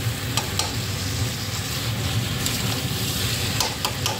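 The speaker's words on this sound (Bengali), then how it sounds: "এটা যাতে চিকেনের মধ্যে ঢুকে যায় সেরকম করে নাড়বো" Chicken in a sour yogurt curry sizzles steadily in a pan while being stirred, with a few sharp scraping clicks of the spoon against the metal over the continuous frying hiss.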